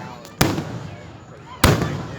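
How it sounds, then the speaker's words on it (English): Two loud, sharp booms from Fourth of July fireworks burst about a second apart nearby, each followed by a short rumbling tail in the open air. "I'm gonna get them all the fireworks"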